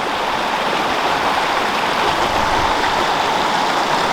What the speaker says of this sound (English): falling asleep to the sound of this river.